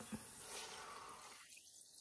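Water pours into a pot for beef nilaga, a soft, splashy running stream that stops abruptly partway through, quiet and close with no talking.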